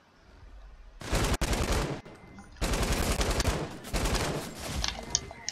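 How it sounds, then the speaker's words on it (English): Video game gunfire as players shoot each other, with rapid, loud bursts of automatic fire in two long volleys separated by a short pause. "you guys are shooting each other without a sniper"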